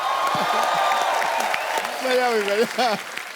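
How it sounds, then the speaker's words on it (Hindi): A studio audience at an Indian comedy show claps through a steady run of applause while voices talk and exclaim over it, rising in pitch near the end. "अरे राजू भाई के लिए जोरदार तालियां।"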